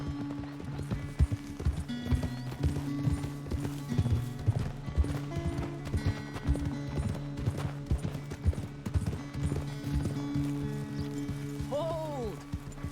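Galloping horse hooves from Red Dead Redemption 2 beat a steady, close clip-clop rhythm throughout, with a short whinny near the end and voices talking now and then over the hoofbeats.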